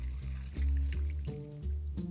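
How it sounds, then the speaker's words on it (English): A cocktail is poured slowly through a Hawthorne strainer into a glass, giving a soft, quiet trickle of liquid that pauses and resumes over a low background hum. "we are just going to slowly push the gate down just a little bit and gently just pour this in"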